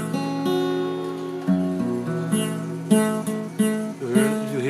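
A very old guitar with a 3D printed capo is strummed, its chords ringing and changing while the poorly pressed third string buzzes. Clear and close, with no talking.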